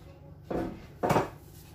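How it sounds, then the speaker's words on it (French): A Moroccan-style tabbouleh salad gets mixed in a bowl: two distinct scraping, clattering strokes of a utensil against the dish, close and fairly loud, with no talk. "on mélange bien le tout"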